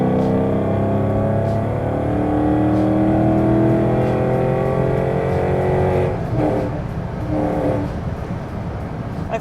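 A Maserati engine revs hard and loud while accelerating, its pitch climbing steadily for several seconds before a gear change and a dip, then revving again close by without talk.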